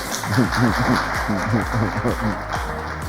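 An audience in a café claps to greet a woman at an event, a soft wash of applause running under a presenter's voice throughout.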